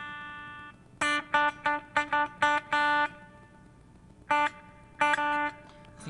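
A clean electric guitar played through a Peavey amp with compression, light reverb and delay picks out a run of short, bright notes and chords in bursts, separated by brief gaps.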